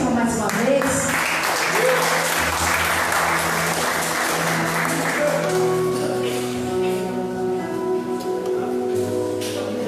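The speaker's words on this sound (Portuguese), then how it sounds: "Aplauda o Senhor mais uma vez" A church congregation applauds together in a full burst of clapping, while tonal music or voices sustain underneath and the clapping thins gradually toward the end.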